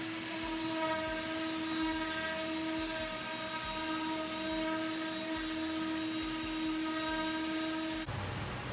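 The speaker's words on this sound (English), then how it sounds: "We are sanding out oil" A Festool orbital sander polish-sands an oil finish on a cherry table, giving a steady high whine with a droning hum, close and continuous, shifting slightly at the end.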